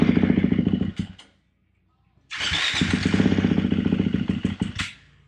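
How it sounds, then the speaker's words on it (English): A KTM motorcycle engine is cranked by its starter after a starter clutch repair, giving two rhythmic churning bursts with a short silent gap between them, close and loud, with a rattly clatter near the end. "it turned the motor over"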